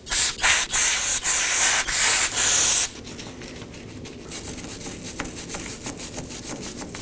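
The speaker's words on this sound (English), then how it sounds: "I'll be using some brake cleaner and a wire brush." Brushing and spraying on the hub mating surface of a 2018-2024 Chevrolet Equinox 1.5L during a rear CV axle job, likely brake cleaner hissing hard in bursts, then lighter scraping strokes continuing steadily at close range.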